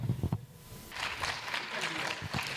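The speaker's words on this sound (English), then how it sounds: "Give a warm hand of applause for Zachary." Audience applause for a speaker at a GNU Radio conference, a broad, steady patter of many hands clapping in a hall that swells after a brief opening and holds to the end, with no speech over it.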